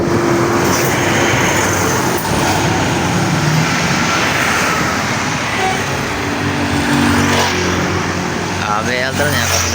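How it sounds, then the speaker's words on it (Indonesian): An ABL Trans bus bound for Payakumbuh passes on a busy road in West Sumatra, its engine rumble blending into steady, loud traffic noise throughout, with someone talking over it. "Terpantau lagi sini ada bus ABL Trans."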